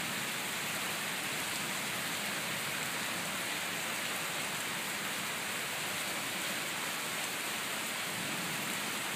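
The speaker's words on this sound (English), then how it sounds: "the water is rushing." Rushing floodwater and heavy rain during flooding in Texas make a loud, continuous broadband roar that stays dense and unbroken the whole time, with no voices.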